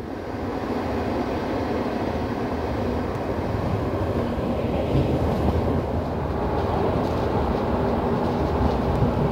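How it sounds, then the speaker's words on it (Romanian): A CFR IRN 1822 overnight couchette train from Arad to Bucharest, hauled by an electric locomotive, gives off a loud, continuous rolling rumble with faint rail clatter and no talking. "avem tren electric, cum ar veni, cu locomotivă electrică"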